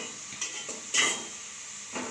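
Onions and chillies fry in hot oil in a pan for a banana curry, with a soft steady sizzle broken by a few loud metallic scrapes and clanks of a spoon stirring.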